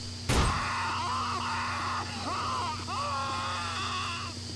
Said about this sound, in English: As for the characters, you hear responses on hits and on death.